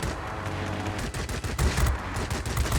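Aircraft machine-gun fire from a Yak-3RD light fighter in World of Warplanes, sustained rapid bursts aimed at a Corsair, loud and dense with no talk over it.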